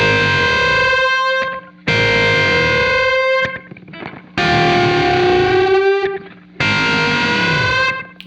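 Four distorted electric guitar unison bends ring out, each sustained chord shimmering with effects before a lower note dives down in pitch. Short gaps of string noise separate the loud phrases, and nobody speaks.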